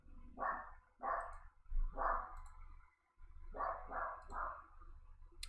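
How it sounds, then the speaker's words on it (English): A dog barks in another room, roughly seven muffled, fairly loud woofs in irregular bursts, with a short pause midway. "And my dog is going crazy in the background"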